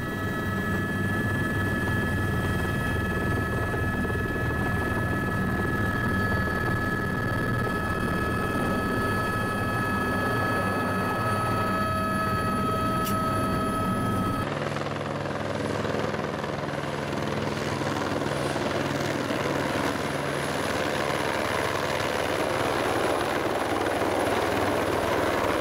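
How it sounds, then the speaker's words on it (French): A helicopter's steady, loud rotor and engine drone fills the whole stretch over Amsterdam Island in the southern Indian Ocean, with a slight shift in tone partway through. "Un rapide transfert en hélico permet de survoler un paysage"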